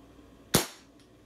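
A single suppressed shot from a Crosman 2240XL air pistol fitted with a DonnyFL Tanto suppressor, one sharp close crack with a short tail, then quiet.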